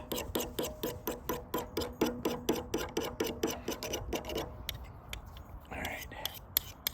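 A knife blade scrapes rhythmically across a rock taken from a fire pit, a close series of regular rasping strokes that later turns into slower, uneven grinding.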